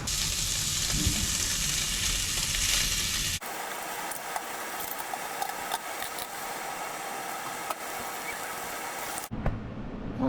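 Thick slices of pork belly sizzle loudly in a pan, a dense crackling hiss that drops to a quieter, steadier fry partway through and cuts off abruptly near the end.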